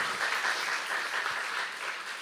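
A church congregation at a Saturday worship service breaks into steady, dense applause, a continuous wash of many hands clapping together at even loudness.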